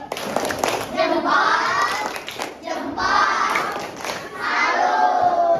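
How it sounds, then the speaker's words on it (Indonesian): Classroom audience of students clapping in rhythmic bursts during a lesson, with excited shouts and children's voices rising over the applause in several waves. "Tepuk salut"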